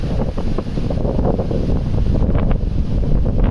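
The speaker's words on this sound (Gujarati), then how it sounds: "પવન થોડોક વધારે થઈ ગયો છે" Heavy, gusty wind buffeting the microphone with low rumbling roar throughout, loud and close, no talking.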